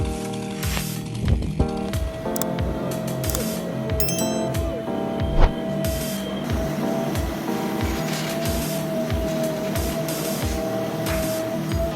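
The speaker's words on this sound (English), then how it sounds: "The Mincy Muck M540 harvester from Silva Pro is harvesting timber in Valais using a specialized cable system." A Mincy Muck M540 timber harvester works a steep slope in Valais on a cable system, with a steady rhythmic low mechanical thumping, a constant engine drone and intermittent metallic clinks and hydraulic hisses.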